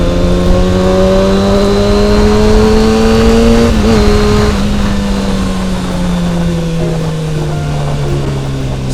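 A motorcycle engine exhaust holds a loud, steady drone with a deep, round tone, its pitch sliding slowly upward, then dipping briefly before easing down, close and continuous with no talking.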